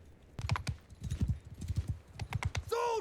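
Horse hooves clip-clop in the video game Bannerlord II, a quick steady trotting patter of several beats near and loud, with a short sharp game sound at the end.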